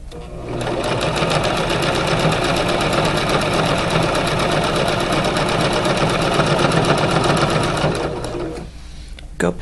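A sewing machine hemming the waist seam of a hoodie runs in one continuous fast, loud, close-up rattling burst for about eight seconds, then stops abruptly, followed by a couple of faint handling clicks.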